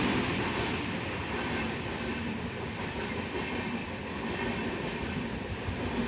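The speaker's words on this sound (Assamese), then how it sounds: "bye bye Tata train" A train rolls past on the rails, a steady loud rumble of wheels and wagons holding close and constant for the whole stretch, with no voices over it.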